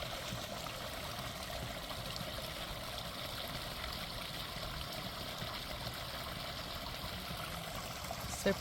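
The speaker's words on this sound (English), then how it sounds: "you want to film your waterfall?" A small waterfall on a property after heavy rain, a steady, faint rushing and trickling of water with no talking, continuous from start to finish.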